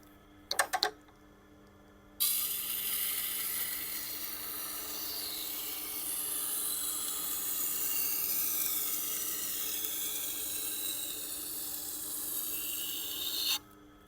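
An American Dexter chef's knife is drawn across a sharpening stone in a continuous, even rasping scrape, close and fairly quiet, after a few short ticks and a pause at the start.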